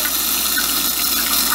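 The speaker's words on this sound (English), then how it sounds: "it's squirting water all over the place" Alpha Bidet JX nozzle spraying water during an installation test, a steady loud hissing gush of water splashing all over, continuous and close with no pauses for the whole moment.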